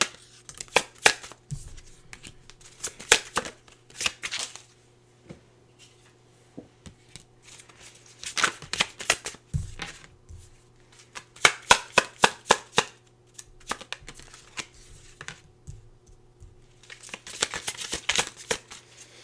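Tarot cards being shuffled in repeated bursts of riffling and sliding, with quiet pauses between handfuls over a steady low background hum; nobody speaks.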